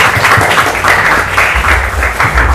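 An audience at an open madrasah examination claps on cue, a short burst of loud hand clapping with low rumbling noise beneath.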